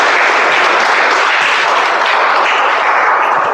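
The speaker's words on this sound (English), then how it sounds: "Let's welcome him with a huge round of applause" Dense, loud audience applause welcoming a speaker at a Toastmasters speech-a-thon meeting, continuous clapping from a full room with no break or voice over it.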